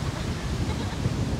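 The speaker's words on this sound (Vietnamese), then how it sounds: "Gió quá, từ từ, gió quá." Strong wind buffets an outdoor microphone with steady, dense low rumble and broadband roar throughout, no clear talk over it.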